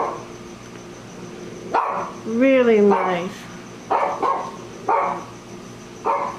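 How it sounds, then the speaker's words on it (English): A dog barks several times in the background of an indoor makeup session, with short, sharp barks spaced irregularly while someone talks over and between them. "sorry my dog is barking"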